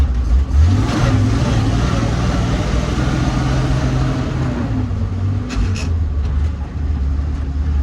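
A loud engine of a 1948 Dodge Power Wagon pickup drones steadily, its pitch rising and dropping as gears are floated without a synchronizer, with a brief higher whine near the end.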